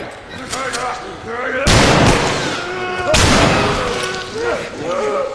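Shotgun fire in The Last of Us, with two loud booming blasts about a second and a half apart, each ringing out, while someone talks over them.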